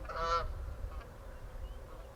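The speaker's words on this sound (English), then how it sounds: "Did you hear that? There's like these geese." A single short goose honk rings out near the start, then only quiet outdoor background remains.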